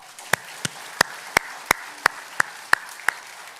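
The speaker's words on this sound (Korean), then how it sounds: "오실 주님을 기대하며 우리 다 같이 박수하시겠습니다." A congregation at a dawn Advent prayer service in a church claps in a steady, evenly spaced beat of about nine sharp, fairly close claps, with a faint murmur of the room between them.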